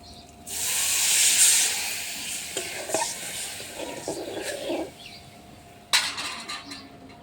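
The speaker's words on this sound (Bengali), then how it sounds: "এই যে জলটা দিয়ে দিচ্ছি" Water poured into a pan of duck egg curry, a loud hissing sizzle that swells then settles into softer bubbling and stirring, with a metal utensil clinking against the pan, no voices.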